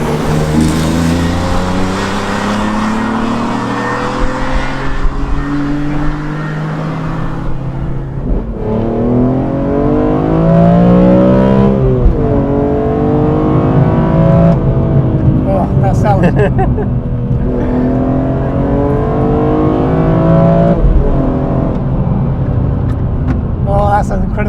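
BMW M3 CSL engine pulling hard under full throttle from inside the car, with rising gear sweeps and shifts, loud and close, while the occupants talk over it.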